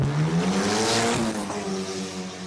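Turbocharged Toyota 4K Corolla race car engine roaring loudly at high revs, pitch rising and falling as it races alongside another small forced-induction car, continuous and close with no talk.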